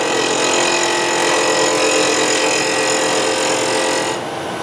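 A wood gouge cuts a hollow into a scoop spinning on a lathe, producing a continuous loud, rough scraping hiss that drops off slightly just before the end.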